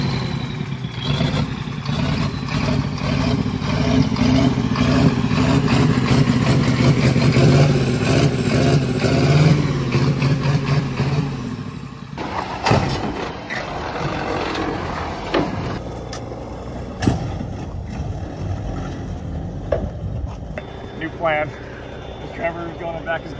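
A Ford F250 pickup with oversized heavy tires and a stressed, snapping frame runs its engine in a steady loud drone with shifting rumble, then the sound thins as it pulls away, with voices talking over it.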